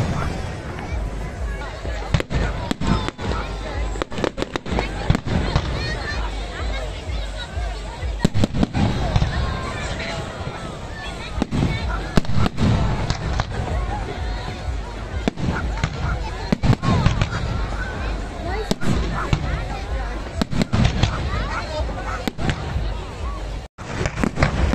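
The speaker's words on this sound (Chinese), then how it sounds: "放喺 Bournemouth 嘅海滩嗰度放烟花嘅。" Fireworks over Bournemouth beach at night, a long run of crackling bursts and booms with scattered sharp pops, heard from among a large crowd with people talking throughout.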